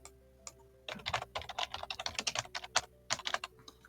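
Rapid typing on a computer keyboard, a quick run of close, crisp key clicks with short pauses and a steady rhythm, no voices.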